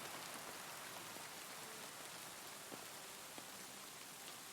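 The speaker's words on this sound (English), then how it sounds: "God, I love the rain." Steady rain falls in the video game Kingdom Come Deliverance 2, a dense, even hiss of drops on surfaces with scattered louder droplets, close and continuous with no talking.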